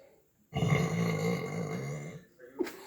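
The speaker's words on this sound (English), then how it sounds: "Smelly burps, stinky burps, gross burps and real honkers." An Alexa smart speaker plays a burp sound effect: one long, loud, gravelly belch lasting about a second and a half after a short silence, followed by a brief softer grunt.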